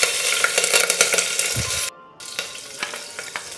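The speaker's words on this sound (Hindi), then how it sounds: "तेल गर्म होने पर हम इसमें हरी मिर्च ऐड करेंगे।" Green chillies sizzling and crackling in hot oil in a pressure cooker, a dense frying hiss with a brief stir and a short gap in the middle.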